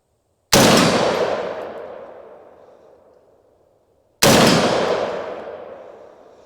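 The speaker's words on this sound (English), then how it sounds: "Let's go ahead, take a couple shots, starting with the large one, move it back." Rifle shots ringing off steel target plates on an outdoor range, two sharp impacts a few seconds apart, each with a long metallic ring that fades away.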